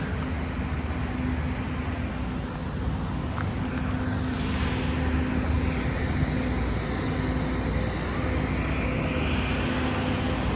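A Velocity twin-engine light propeller airplane droning steadily for several seconds, a constant engine hum with a faint whine above it.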